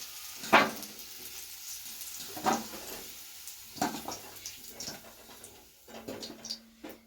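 Potatoes fry in hot oil with turmeric, giving a soft sizzle broken by a few sharp spatula scrapes and stirring knocks at irregular intervals, fairly close and quiet.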